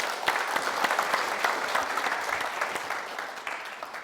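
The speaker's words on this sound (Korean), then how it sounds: "큰 박수 부탁드립니다" Warm audience applause welcoming a professor to the stage at a parenting talk concert, steady clapping from a crowd with sharp individual claps standing out, tapering slightly at the close.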